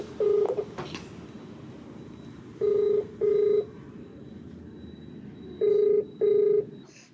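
Touch-tone telephone keypad beeps in two quick pairs, each a short steady tone, with a faint continuous line tone under them and no talking.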